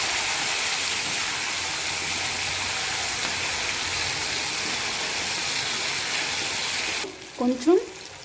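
Tamarind paste fries in a pan for a bitter gourd pickle, giving a steady close sizzle that runs for several seconds before a voice briefly speaks at the end.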